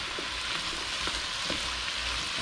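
Tuna and vegetables stir-frying with soy sauce in a hot pan over medium-high heat, giving a steady, dense sizzle with no break and faint scraping stir sounds beneath it, close by and without any talking.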